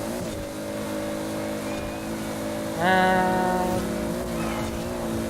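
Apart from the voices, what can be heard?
Toyota Supra engine while driving in Forza Horizon 4 video game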